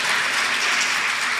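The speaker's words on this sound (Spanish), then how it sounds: "También un aplauso para ella," Audience applause in a conference hall for a documentary filmmaker, a steady dense wash of clapping that holds at full level for the whole stretch with no voices over it.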